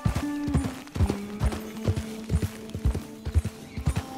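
Rhythmic horse hoofbeats in Red Dead Redemption 2 clip-clop steadily at a walking pace, close and clear, with a faint game-like tonal hum underneath and no talking.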